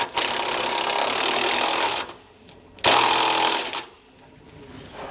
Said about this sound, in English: then we'll take our 19mm socket and wrench to tighten these down